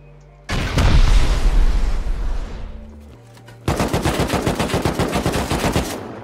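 HV rockets fired at an automated turret during a raid in the survival game Rust: a long roaring blast gives way to rapid, loud, sustained automatic gunfire crackling in steady bursts.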